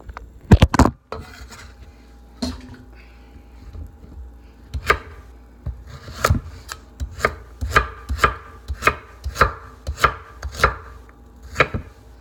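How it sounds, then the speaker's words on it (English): A knife chops carrots steadily on a cutting board, sharp close knocks in a fairly regular rhythm with a few quieter gaps, no talking. "So I'm chopping the carrots."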